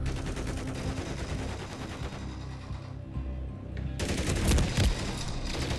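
Rapid bursts of video game gunfire, with bullets hitting the player from behind: dense, continuous automatic shooting that swells louder toward the end, with no talk over it.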